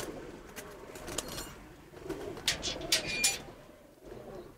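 Pigeons coo softly in the background, with a few brief chirps and faint rustling around them.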